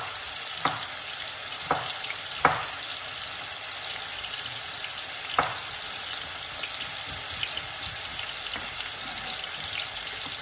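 Cabbage frying in a pan, a steady close hiss and sizzle throughout with a few sharp clinks or stirring knocks early on.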